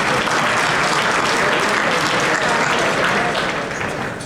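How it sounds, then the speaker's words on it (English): Audience applause fills a GOP dinner hall in New York State, a dense, steady wash of clapping from a large crowd that holds loud throughout and only begins to ease at the very end. "Yeah, you can clap for that."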